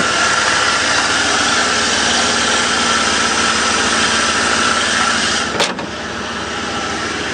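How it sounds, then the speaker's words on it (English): A warmed-up Ford 460 V8 idles in a steady, even drone close by, with a sharp knock near the end and a slightly lower, softer rumble afterward. "quiet running 460."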